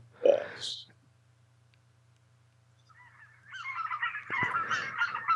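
A flock of geese honking as a recording is played back, one brief honk at the start followed by quiet, then a busier stretch of overlapping honks and calls toward the end, with some faint speech.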